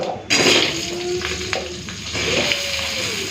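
Potatoes sizzle in hot oil with whole cumin in a home kitchen pan, a steady close crackle with a few stirring scrapes and a brief louder burst at the start.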